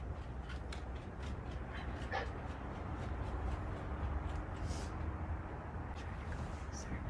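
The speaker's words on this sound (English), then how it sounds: "There's a dog up there, okay, there in the balcony." A dog on a balcony gives faint, intermittent barks and whimpers from a distance, half-buried under steady background hiss and low murmuring.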